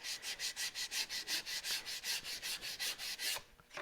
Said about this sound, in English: The solution to the line problem is just a little bit of hand sanding.